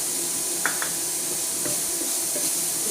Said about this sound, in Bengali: নারকেল কোড়া দিয়ে আমি সুন্দর করে নাড়াচাড়া করতে থাকবো